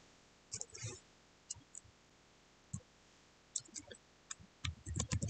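Computer mouse clicks while opening a folder on a desktop, a scattering of quiet, sharp single and double clicks spread across the clip, with soft handling noise and faint desk bumps in between.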